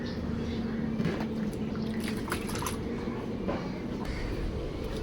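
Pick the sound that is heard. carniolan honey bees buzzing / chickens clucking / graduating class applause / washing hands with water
washing hands with water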